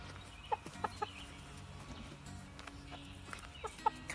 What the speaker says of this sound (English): I always have this one rooster that doesn't want to go up at night.